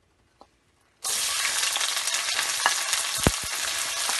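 Chopped onions and green chillies hit hot oil with a sudden loud sizzle that keeps frying steadily, with a faint stir and a small clink partway through and no talk.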